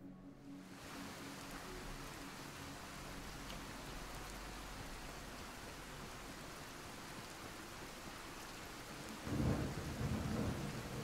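Steady rain pours in the Fallout 4 video game (modded), a dense, even hiss throughout, with a deep roll of thunder swelling near the end.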